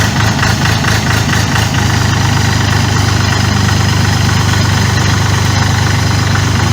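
An Orion RF244 diesel tractor engine idles loudly and close, a steady low rumble with rhythmic knocking throughout.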